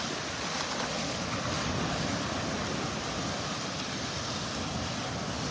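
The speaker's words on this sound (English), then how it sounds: "Notice how the waves are getting bigger as we get further south here." Ocean waves break on a shoreline with an eroding ledge, a continuous loud wash of surf and spray mixed with wind noise and no pauses.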